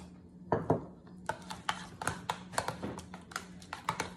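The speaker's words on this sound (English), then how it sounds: "You just want to mix it so that it's well mixed" A spoon clinks and scrapes against a bowl in quick, irregular taps while beef bouillon is stirred for slow cooker Salisbury steaks, close and fairly quiet.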